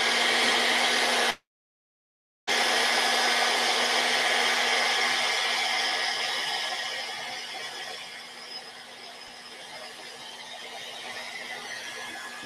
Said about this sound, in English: Now, I'm going to hit this with the air dryer again, just to dry the white spirits up.